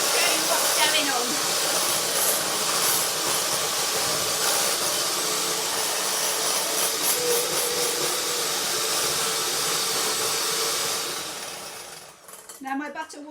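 Electric mixer creaming very soft butter in a home kitchen for custard biscuits, a steady whirring hiss running loud and unbroken for about eleven seconds before cutting out, followed by a few small clinks.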